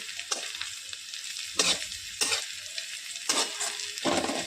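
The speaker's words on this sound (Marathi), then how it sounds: "तर हा कांदा आपण तळून घेऊया।" Chopped onion sizzles and fries in a hot pan while being stirred for an instant pressure-cooker chicken curry, with a steady crackle and several louder scraping stirs close by.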